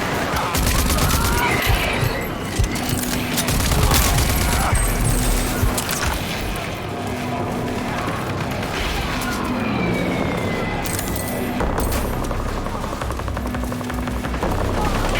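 Gunfire and explosions from the video game Rage 2 sound dense and continuous, with rapid fusillades, booms and a whirring engine-like drone layered together at a loud, steady level.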